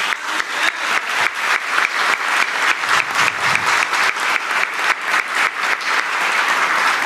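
Crowd applause from an audience at a political speech in Brazil, dense rhythmic clapping that holds steady and loud for about seven seconds without a break.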